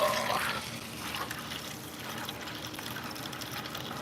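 Fluid drains out of the oil pan of an IMCA stock car engine during a teardown, a soft continuous trickling and splashing that stays fairly faint and even throughout.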